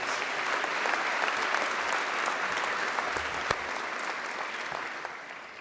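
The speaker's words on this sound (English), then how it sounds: "let's give Stuart a round of applause." A graduation ceremony audience applauds a guest of honour in a steady, dense round of clapping that holds throughout and tapers slightly at the end.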